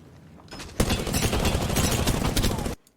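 Dense, sustained gunfire from a squad in the video game Apex Legends, a loud overlapping burst of rapid shots lasting about two seconds before cutting off abruptly.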